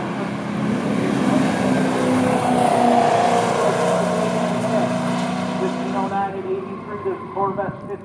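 A 1964 Studebaker Challenger R4 and a 1971 Corvette at a drag strip, engines droning loudly and steadily for several seconds before fading away in the distance.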